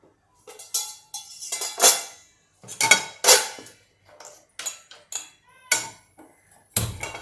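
Metal pots and pans clank in a kitchen while aloo matar paratha masala is prepared, with a pan set down on the stove among a dozen sharp, fairly loud clatters of cookware and utensils at an uneven rhythm, with no talking.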